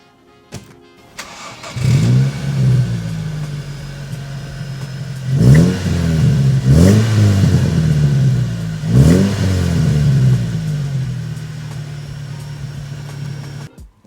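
A grey 2010 Morgan Plus 4 Sport cranks and fires up, then its mid-pitched engine settles into a steady idle broken by several sharp throttle blips as it pulls away, loud and close with no talking.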